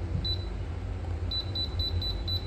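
An air fryer's control panel gives one short electronic beep, then a quick series of about six evenly spaced beeps as its timer and temperature are adjusted, over a low steady hum.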